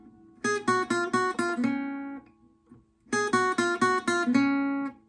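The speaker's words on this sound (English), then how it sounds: "the first 2 runs of section 4 of the guitar riff would sound like this" Guitar riff from a song, plucked in two matching runs: five crisp, evenly spaced notes each, the last ringing out and fading, close and clear with a short pause between runs.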